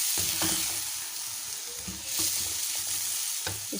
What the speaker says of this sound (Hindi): देखिए माशाल्लाह से अच्छे से भून रहा है टमाटर वगैरह के साथ।